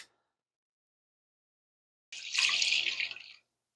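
After about two seconds of silence, milk pours steadily into a large pot for just over a second, close and fairly loud, then stops.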